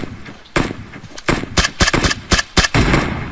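Video game gunfire crackles in sharp bursts of rapid shots, loud and close, with brief pauses between volleys.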